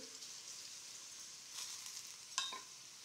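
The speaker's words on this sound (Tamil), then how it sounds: "எண்ணெயில் ரெண்டு வதக்கு வதக்கிக்கலாம்" Fenugreek powder and asafoetida sauté in oil for Tamil puliyotharai, a soft, faint sizzle with light stirring scrapes and one brief sharper clatter near the end, heard alone without speech.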